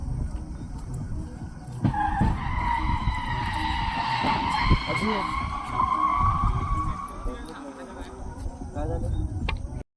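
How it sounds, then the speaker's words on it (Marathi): A car crashing into a Royal Enfield Bullet motorcycle at night, a long harsh tire skid screeching for several seconds with impact clatter and shouting voices around it. "कार बुलेटला धडकल्यानंतर रात्रीच्या अंधारात झालेला कर्कश आवाज"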